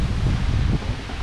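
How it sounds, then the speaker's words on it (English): Strong wind buffets the microphone in a steady, loud roar with no pauses. "So windy."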